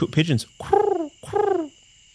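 A man imitates a dove's cooing with his voice, first a short throaty warble and then two drawn-out, wavering coos, each falling in pitch, close and clear.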